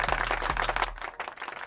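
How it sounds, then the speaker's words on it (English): A short, fairly faint patter of clapping plays against a low steady hum, with a brief dip partway through before the clapping resumes. "round of applause for Uncle Jeff"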